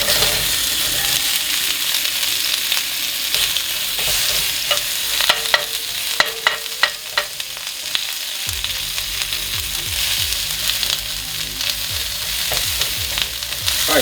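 Onions fry in a hot skillet with a loud, dense, unbroken sizzle, joined midway by several quick metallic clicks and scraping strokes of a utensil.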